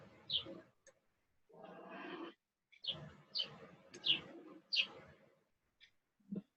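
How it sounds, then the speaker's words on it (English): Birds call outside in short bursts, with high chirps and soft cooing notes spaced irregularly against quiet background. "You can hear the birds chirping."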